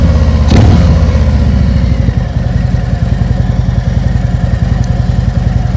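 A motorcycle engine runs close and loud during slow-speed riding practice, holding a steady low putter with a brief rev near the start.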